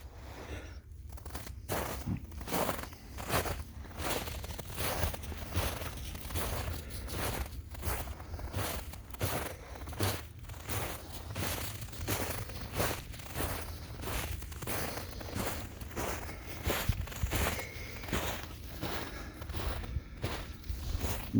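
Footsteps crunch steadily over frozen, icy ground during a South Texas blizzard, a close, even walking rhythm of crisp crackling steps with no talk.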